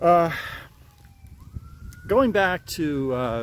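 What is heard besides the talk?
siren in the background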